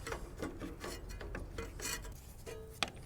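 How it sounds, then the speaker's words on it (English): Plastic scrapes, rubs and clicks as the air filter housing is worked loose from a Briggs and Stratton riding mower engine, close and fairly quiet, with a sharp snap near the end. "Now we can take this air filter housing off."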